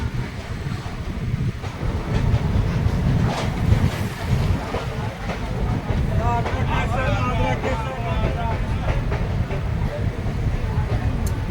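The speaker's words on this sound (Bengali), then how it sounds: "পরন্ত বিকেলে ট্রেন ধীরে ধীরে জয়চণ্ডী পাহাড় স্টেশন এন্টার করছে" A Tatanagar–Asansol Express train rolls slowly into Joychandi Pahar station in late afternoon, a steady loud rumble of wheels and carriages with faint clanking and some background voices throughout.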